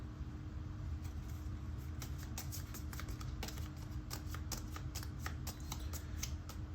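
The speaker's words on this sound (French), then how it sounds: "on va faire un tirage sur le petit oracle des anges" Angel oracle cards being shuffled for a draw, a run of quick, light flicking and riffling clicks over a faint steady background hum.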